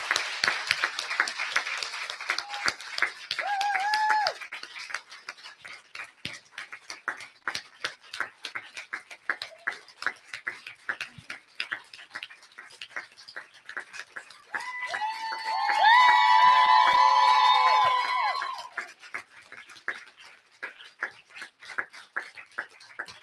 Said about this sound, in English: So everybody stand up and cheer.